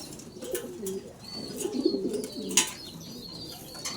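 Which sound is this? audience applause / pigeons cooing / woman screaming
pigeons cooing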